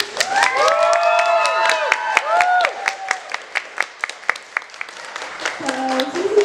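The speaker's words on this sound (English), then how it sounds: "Can we get a round of applause?" At an LPS fan convention, a small crowd greets a guest with high-pitched cheers and whoops, followed by scattered, distinct claps that thin out near the end, where a brief voice cuts in.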